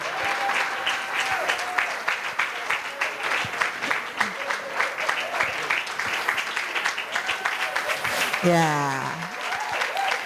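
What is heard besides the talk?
audience clapping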